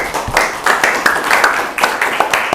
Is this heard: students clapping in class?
yes